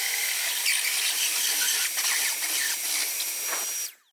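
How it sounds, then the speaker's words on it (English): Power drill cutting a hole into a feature wall: a continuous high-pitched whine and grinding that runs steadily with slight variations, then stops abruptly at the end. "so here we go. Let's cut the hole."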